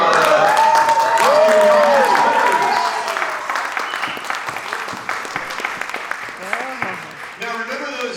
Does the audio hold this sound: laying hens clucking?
no